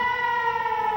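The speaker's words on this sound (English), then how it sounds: "Air raid sirens wailed in Jerusalem Thursday" A steady air raid siren wails in Jerusalem, one loud sustained tone held throughout with no speech.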